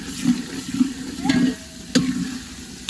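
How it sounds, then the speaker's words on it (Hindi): Chicken pieces hitting fried masala in a pot for desi-style chicken pulao, giving a close, loud sizzle broken by a few bursts of stirring and scraping. "अब इसके अंदर डालते हैं जी चिकन।"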